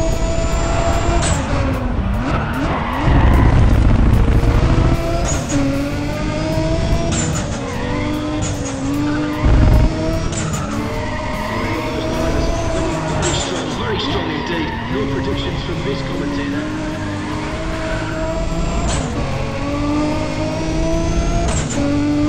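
Race car engine revving and skidding in the Need for Speed ProStreet video game, a continuous loud drone with rising and falling pitch, tire squeals and shifts, with a voice talking over it throughout.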